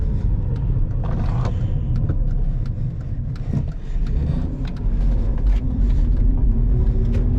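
A Hyundai Genesis Coupe with a Megan Racing transmission mount drives on the road, heard from inside as a steady low engine and road rumble that swells slightly as it accelerates, with no voices.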